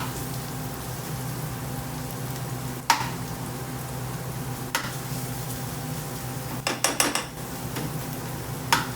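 Chicken tikka bhuna sauce cooks over medium heat, giving a low steady sizzle with a faint background hiss and occasional metallic clinks and taps from a utensil on the pan.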